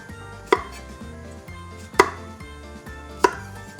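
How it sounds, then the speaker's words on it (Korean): A knife cutting a cucumber into bite-sized pieces on a board, three sharp, separate chops spaced about a second apart, each close and clear with quiet background between. "그리고 또 우리 집 먹기 좋은 크기로 등분해 썰어주세요."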